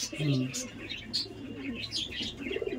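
Andhra pigeons, male and female birds at a sale, coo and murmur close by in a low, soft rolling rhythm, with faint chirps and light rustling around them.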